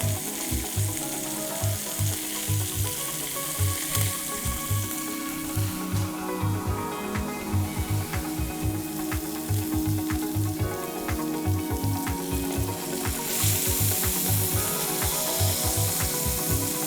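Beef steak frying in a pan gives a loud, steady sizzle with dense crackling and spitting that carries on without a break, close up.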